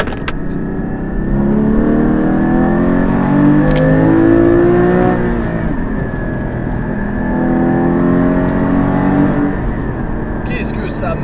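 Porsche Cayman GT4 engine pulling hard under acceleration on the road, a loud, sustained rising drone with harmonic sweeps that climb, drop at a shift, and climb again, with a voice occasionally over it.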